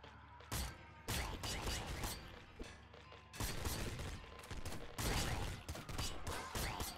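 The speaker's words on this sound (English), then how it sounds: "Double machine gun isn't that good." Rapid automatic gunfire from a double machine gun in the video game Nuclear Throne, dense bursts of shots crackling steadily for several seconds with a brief pause, loud and up front amid game effects.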